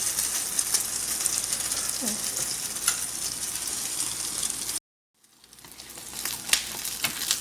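Whole wheat bread soaked for French toast frying in a pan, three slices at once, giving a steady close sizzle that cuts out abruptly for a moment, then builds back up with small pops and crackles.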